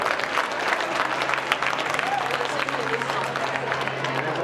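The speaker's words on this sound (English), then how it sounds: "Big round of applause there, ladies and gentlemen." Applause for an under-12 sports team at a junior game presentation, a steady wash of clapping from a crowd with mixed chatter for several seconds.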